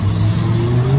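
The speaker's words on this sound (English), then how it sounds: "Heard that car, man." A car passes along the Seaburn seafront road on a stormy day, its engine a steady, close hum that rises slightly in pitch as it goes by, with wind noise behind and no talking.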